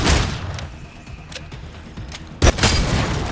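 Gunfire in the video game Bloodhunt: a dense, noisy burst of shots at the start, a rumbling stretch, then a sharp loud blast near the end, close and harsh.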